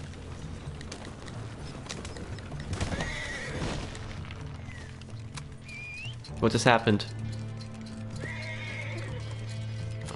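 In Red Dead Online, a wagon horse gives two loud, close whinnies amid clip-clopping hooves and faint birdsong. Someone speaks briefly between them.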